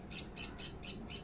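Adult birds give a rapid run of five high, raspy calls in an even rhythm, faint and close, with no talking heard.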